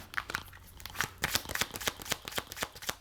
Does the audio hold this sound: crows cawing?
no